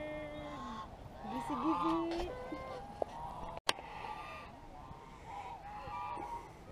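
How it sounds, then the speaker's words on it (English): Geese at a park on the water honk in a noisy group, with repeated nasal calls rising and falling, fairly close. A person speaks briefly among them and a sharp click cuts in midway. "It's the parade of geese."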